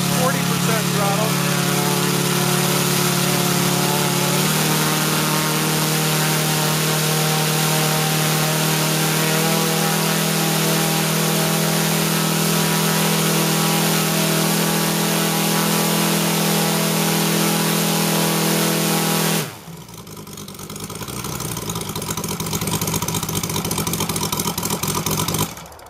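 An RCS150 small engine test run under PC throttle control, producing 34 pounds of thrust at about 5,000 RPM: a loud, steady tonal whine and roar that holds for about nineteen seconds, then abruptly shifts to a rougher, lower-level noise.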